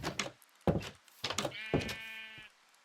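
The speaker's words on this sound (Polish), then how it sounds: "owca, nie becz" A Minecraft sheep bleats in a long wavering cry after several sharp thumping knocks.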